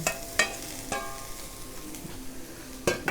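Chili peppers dry-roasting in a little oil in a pan, with a low steady sizzle broken by a few sharp scraping stirs near the start and end.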